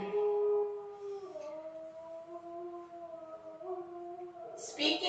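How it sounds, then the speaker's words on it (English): A dog howls somewhere in the background of a quiet room, a long wavering tonal howl that rises and falls in pitch over several seconds, moderately faint, ending with a short rustle. "that's my dog howling in the background."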